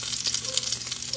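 Garlic fries in a pan with a steady, bright crackling sizzle that runs unbroken through the whole moment, close and fairly loud.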